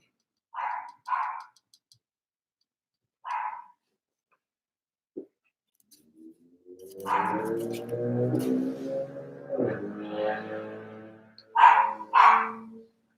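A dog barks at a stranger indoors: a few isolated sharp barks, then a louder double bark after a stretch of people talking nearby.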